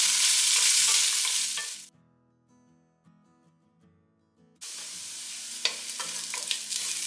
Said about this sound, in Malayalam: 2 സവാള എടുത്തിട്ടുണ്ട്, നീളത്തിൽ അരിഞ്ഞതാണ്. ഒന്ന് വഴറ്റി കൊടുക്കാം.